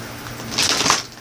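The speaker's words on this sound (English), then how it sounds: "I'm shuffling the deck so that I can do my interactive part." A tarot card deck being shuffled by hand, one brief riffling burst up close, fairly loud against a low background hiss.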